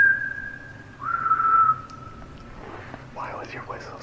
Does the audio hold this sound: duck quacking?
no